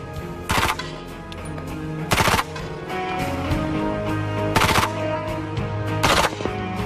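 MP5 submachine gun firing in bursts, four loud broadband blasts spread over several seconds, each a short rapid cluster of shots over a steady background music bed.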